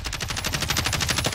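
A fast, even rattle of video game gunshots, around a dozen evenly spaced bangs in just over a second, loud and close, with no voices over them.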